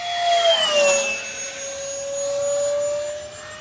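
An E-flite Habu XS 80mm electric ducted-fan jet passing at throttle, with a loud steady high-pitched whine that sweeps down in pitch as it goes by and then holds a sustained tone.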